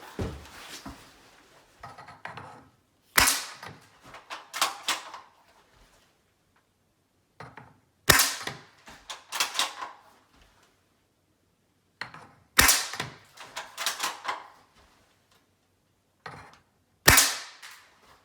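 An ASG McMillan M40 airsoft gas sniper rifle fires through a chronograph in four sharp, loud cracks spaced several seconds apart, each followed by clicking bolt and handling noises in a quiet room.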